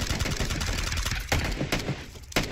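Enemy gunfire in a video game comes as dense, continuous rattling bursts of shots, loud and close, with a few sharper cracks standing out toward the end.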